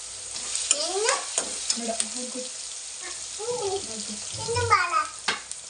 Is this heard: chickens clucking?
no